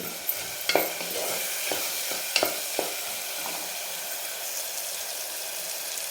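A steady sizzle of tomatoes frying in a pan, with a few sharp scrapes and taps of a spoon stirring near the start.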